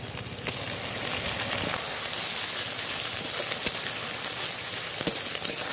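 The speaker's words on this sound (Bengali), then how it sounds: "এবার দিয়ে দেবো বেটে রাখা পেঁয়াজ" Onion paste frying in a pan while a Bengali-style katla fish kalia is cooked, a steady close sizzle with a few sharp crackles and spatters and no talking.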